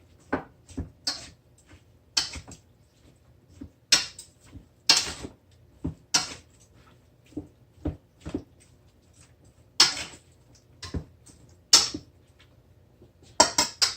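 A utensil mixes broccoli quiche filling with mozzarella in a bowl, making repeated sharp taps and clinks at an uneven rhythm, close and fairly crisp over a low background hum.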